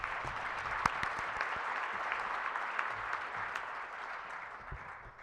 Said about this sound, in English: Please join me in a round of applause for the honorees